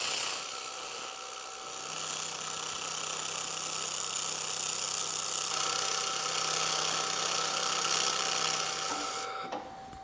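An Xlaserlab X1 Pro laser welder with dual wire feed runs a bead on a T-joint, giving a steady close hiss and hum with a faint tone that cuts off abruptly near the end.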